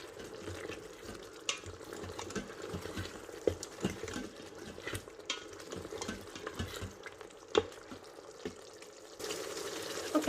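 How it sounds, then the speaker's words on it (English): Crushed whole seeds being stirred into food cooking in an Instant Pot Duo 7-in-1 pressure cooker, a soft steady sizzle with faint scraping taps of the spoon, quiet and close, no talking. "crushed whole seeds, and then just stir that in"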